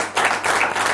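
A short burst of applause from an audience, dense clapping filling the whole second.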